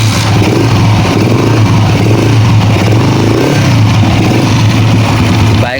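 A Honda CG125 motorcycle engine runs continuously nearby, a loud steady idle with a fast rattling, ticking texture from noisy cam parts throughout.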